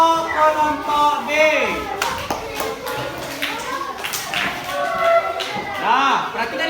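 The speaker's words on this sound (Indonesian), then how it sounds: "Beri tepuk tangan untuk kelompok B." Children in a classroom clap for a student group, uneven bursts of hand claps and taps rising and falling, mixed with lively young voices talking and calling out over them.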